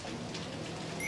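Rain falls steadily outdoors at a Bangkok street food spot, a soft, even hiss of drops spread evenly and fairly faint throughout.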